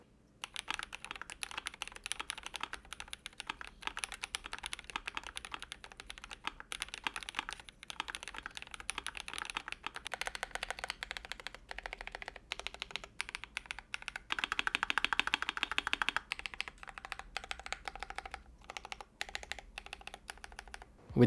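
Typing on a modded GMMK Pro keyboard with a polycarbonate plate gives quiet, rapid, irregular clacks and thocks heard close up for about twenty seconds, with a slightly denser flurry partway through.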